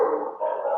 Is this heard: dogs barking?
yes